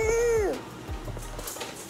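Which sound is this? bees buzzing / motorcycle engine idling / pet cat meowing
pet cat meowing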